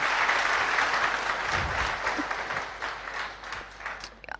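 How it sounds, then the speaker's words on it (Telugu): An audience at a motivational speech claps loudly, dense sustained applause from a large crowd that tapers off gradually toward the end. "ఇంకా గట్టిగా చప్పట్లు కొట్టాలి ఒకసారి"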